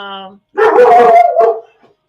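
A dog howls loudly and close by in a long wavering note with a brief second rise, right after a voice trails off.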